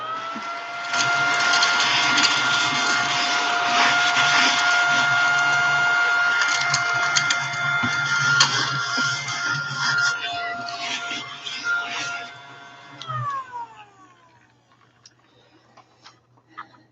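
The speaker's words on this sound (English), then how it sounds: "This is my tiny mushroom vacuum." A tiny mushroom-shaped handheld vacuum runs while cleaning a book, a steady close whirring motor hum with scratchy brushing over it, then winds down with a falling pitch and stops near the end.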